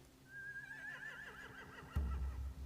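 Horses in The Walking Dead video game give a long, wavering neigh that rises and trembles for over a second, followed by a low thump and rumble near the end.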